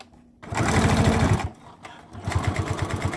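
A sewing machine stitches a children's fabric face mask in two rapid mechanical bursts, close and loud, with a brief pause between runs for a backstitch.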